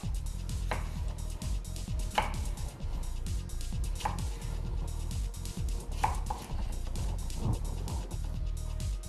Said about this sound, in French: Ensuite, la courgette, que je vais couper de la même manière que pour la carotte.